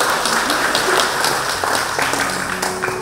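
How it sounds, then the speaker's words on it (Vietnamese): A church congregation at a thanksgiving Mass applauds to welcome guests, giving a loud, continuous burst of clapping from many hands that fills the room. "Xin cộng đoàn dành một tràng pháo tay để chào đón quý vị."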